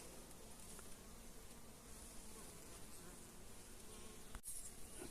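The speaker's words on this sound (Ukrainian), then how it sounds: "Хоч і спокійні бджоли." A dense, steady buzz of many honeybees at an open hive fills the air close by, a continuous low hum with faint clicks and shuffles, in the evening.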